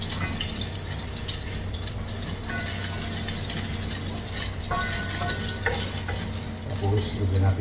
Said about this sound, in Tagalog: Kung mainit yung mantika, lagyan na natin ating bawang para hindi siya patay